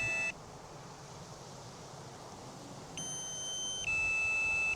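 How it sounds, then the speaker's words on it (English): Thin high-pitched electronic beeping tones, steady and sustained, switching pitch midway over a constant low background rumble. "A little bit of a different, strange beeping sound"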